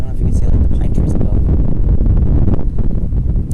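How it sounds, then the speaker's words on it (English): Strong wind buffets the microphone outdoors in a garden with pine trees overhead, a loud continuous rumbling roar with gusty rustling throughout. "Wow, it's getting windy."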